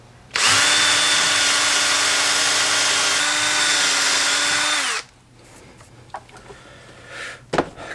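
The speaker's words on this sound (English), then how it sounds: "I'm going to pre-drill all four." A power drill whines at high speed for about four and a half seconds, pre-drilling a hole into wood to mount a jeweler's bench pin, then stops; soft clicks and handling noises follow.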